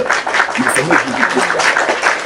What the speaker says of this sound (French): on applaudit pour le Seigneur